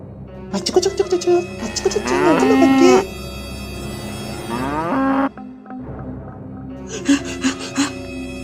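A cow moos twice in long, drawn-out calls, close by, with short breathy vocal sounds before and after.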